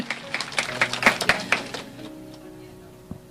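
A church congregation gives scattered applause during a sermon, a handful of sharp claps for about two seconds that quickly thin out and fade, with a faint voice and room hum underneath.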